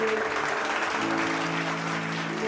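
A church congregation claps during a Sunday Tamil service, a brief, dense burst of applause from many hands at moderate volume.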